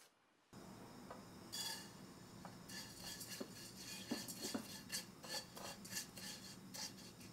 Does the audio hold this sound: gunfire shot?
no